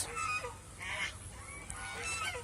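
Female geese honk repeatedly in loud, nasal calls, several birds overlapping close by with no talking.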